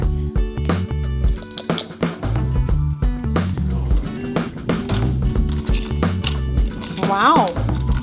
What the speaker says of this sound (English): Stir together the honey and pepper flakes.